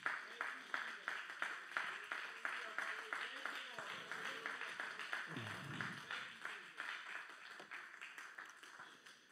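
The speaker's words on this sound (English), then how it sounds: "Can you clap your hands one more time as you stand to your feet?" A church congregation claps together in a steady rhythm of sharp, dense hand claps that keeps going for several seconds, with a brief low thump partway through.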